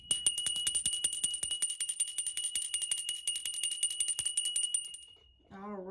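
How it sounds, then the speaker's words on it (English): A small ringing bell is shaken rapidly, producing dense, bright metallic strikes and a sustained high tone for about five seconds before it stops and a voice begins speaking. "I'm going to go ahead and ring the bell so we can go ahead and clear the energy"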